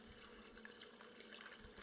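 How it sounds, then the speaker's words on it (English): Tap water runs steadily into a container of instant noodles, a continuous close rushing splash that stays even for the whole stretch with no talking over it. "Now we need to get some water. You get some water."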